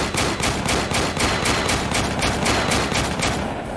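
Rapid gunfire from units in the video game Warpips, a dense steady crackle of repeated shots filling the whole stretch with no pauses and no talk.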